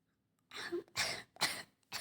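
Three harsh coughs in quick succession, then the start of a fourth, close to the mic after a moment of quiet.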